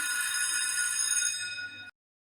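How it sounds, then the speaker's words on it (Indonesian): School recess bell ringing at break time, a bright continuous metallic ring that holds steady for almost two seconds and then cuts off abruptly into silence. "Bel istirahat pun berbunyi."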